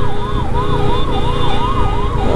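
An ambulance siren wails loud and close in traffic, sweeping up and down in a steady, even cycle with road noise underneath.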